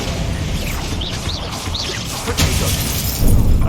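A Bombarda spell blast in the video game Hogwarts Legacy bursts out as a dense, loud crackling shatter with warbling magical tones above it, building into a heavier rumbling crash toward the end.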